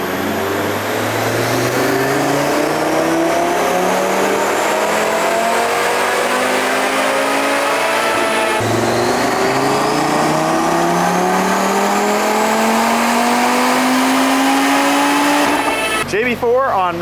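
A 2024 Audi RS3 tuned with a JB4 on Map 1 and 91 octane fuel screams through a long, loud dyno pull, its five-cylinder note climbing steadily in pitch, dropping briefly after a shift, then rising again before cutting off sharply.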